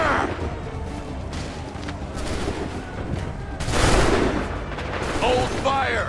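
Musket firing squad volleys in the Assassin's Creed III Lexington and Concord mission, sharp gunfire bursts and booming shots rolling through a noisy battlefield, with a voice shouting commands between the shots.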